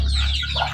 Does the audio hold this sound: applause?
no